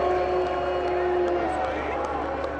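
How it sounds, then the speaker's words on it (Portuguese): A crowd boos as Brazilian minister Ricardo Salles is announced: a sustained, droning chorus of many voices, steady and fairly loud, with a hubbub of crowd noise beneath it. "houve vaias"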